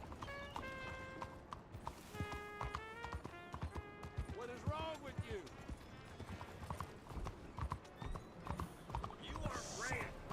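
Horse hooves clip-clop steadily through a busy town in the Red Dead Redemption 2 video game, the rhythm running the whole time beneath game voices, music and occasional whinnies.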